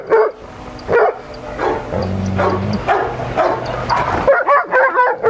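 A dog barks several times in a short, irregular burst, with a brief whine between barks, as a handler works it on a chain in a training session, and background speech runs under the barks.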